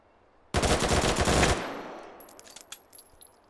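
A full-auto April Fool's gun in the VR shooter H3VR fires one loud, rapid burst lasting about a second, then trails into echoing tail and a few faint clicks and rattles.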